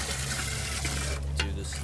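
Water runs steadily from a tap during farm chores, a constant low hiss and trickle heard at close range throughout, with a brief brighter splash near the end and no voices.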